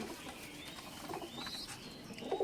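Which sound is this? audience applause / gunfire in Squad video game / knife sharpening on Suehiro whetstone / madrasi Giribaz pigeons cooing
madrasi Giribaz pigeons cooing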